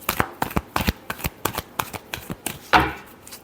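Tarot cards are shuffled in a quick series of crisp riffles and slaps, about a dozen sharp bursts close to the mic, ending in a longer rustling sweep.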